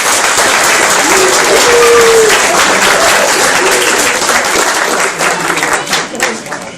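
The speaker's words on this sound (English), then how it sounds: "So a big round of applause." A crowd applauds loudly and steadily, sustained clapping that slowly begins to thin out toward the end, with a few voices mixed in.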